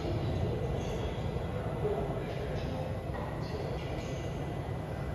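A metro train on the new Line 16 at a subway station in Pingshan gives a steady low rumble with faint rail squeals and clinks, heard under light talking in the station.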